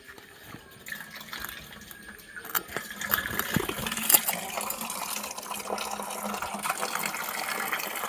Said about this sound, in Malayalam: മോൻ വെള്ളത്തിൽ കളിക്കാതെ വന്നേ.